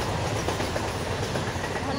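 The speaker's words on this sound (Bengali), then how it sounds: "দেখছো কি সুন্দর ট্রেন চলে যাচ্ছে" A train passes through open countryside by a village, its wheels clacking in a continuous rolling rumble at moderate distance, with someone talking over the sound.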